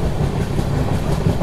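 A Padmavati SF Express made of LHB coaches runs through Tiruchanur railway station without stopping, producing a loud, steady, close rolling rumble with faint rhythmic wheel clatter.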